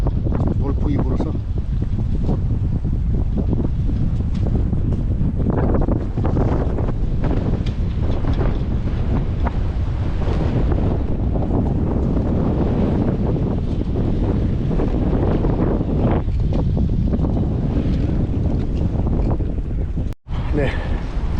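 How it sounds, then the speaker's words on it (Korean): Strong gusting wind roars across the microphone out at sea off Ocheon harbor, a steady loud buffeting rumble with shifting gusts and a possible hint of boat and water noise, continuing nearly unbroken throughout. "돌풍이 불어서"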